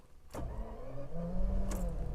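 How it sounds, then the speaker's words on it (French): A Daimler Double Six V12 car engine cranks and catches, settling into a smooth, muted low idle with a faint mechanical whine over it. "et là, le moteur démarre. Très feutré."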